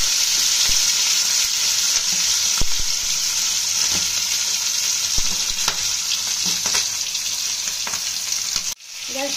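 Boiled meat for yakhni biryani fries in very hot oil over a high gas flame, giving a loud, continuous close-up sizzle with occasional utensil clicks and stirring scrapes, briefly interrupted near the end.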